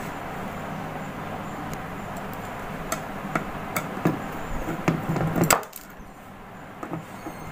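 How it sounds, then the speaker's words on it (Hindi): Screws being removed from a Stranger SM6 sound mixer during repair, heard as faint scattered clicks and small taps against a quiet room hiss, with a brief louder rattle before it falls nearly silent. "अभी स्क्रू को निकाल चुके हैं बाहर"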